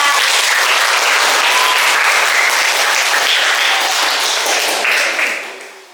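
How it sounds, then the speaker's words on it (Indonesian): Loud, dense applause from a school audience at an elementary class presentation, sustained many-handed clapping that fades out toward the end. "ayo kita sambut kelompok 3 dengan tepuk tangan yang meriah"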